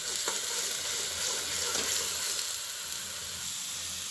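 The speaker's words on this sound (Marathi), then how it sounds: "चांगला तळून घ्यायचा मसाला तेलामध्ये." Masala frying in hot oil for a sprouted moth bean curry gives a steady, dense sizzle that holds evenly throughout, close and moderately loud, with no speech over it.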